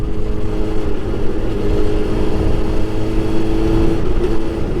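A motorbike fitted with a K&N air filter panel runs at steady engine revs, a loud continuous drone heard close up from the rider's position.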